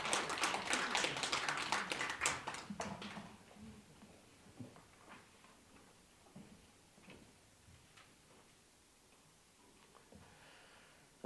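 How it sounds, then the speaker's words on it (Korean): A burst of audience applause at an academic conference opening ceremony fills the first few seconds, then thins out into scattered claps and quiet room noise. "뜨거운 격려의 박수 부탁합니다"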